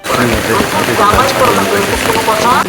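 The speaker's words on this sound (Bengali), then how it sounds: "প্রচুর বৃষ্টি হচ্ছে" Heavy rain falls in a rural village, a dense, steady hiss of water that runs under a voice speaking throughout.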